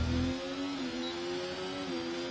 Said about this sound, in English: listen to this engine, bro